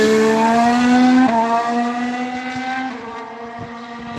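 Nico Hulkenberg's Formula 1 car on a race simulation run passes close by, its loud high-pitched engine note falling in pitch as it goes past, with a brief gear change partway through.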